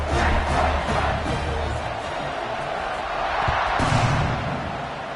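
Stadium crowd in an American football video game roars steadily at a kickoff, a dense wash of cheering that swells slightly near the end.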